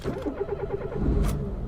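A 2013 Nissan GT-R engine cranks and fires up, building into a loud, rough burst of revs after about a second, then settling into a steady rumble, close and with no voices.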